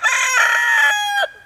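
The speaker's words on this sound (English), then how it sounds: "this rooster here is about to meet his death today." A rooster crows once, close and loud, a single drawn-out cock-a-doodle-doo with a clipped ending.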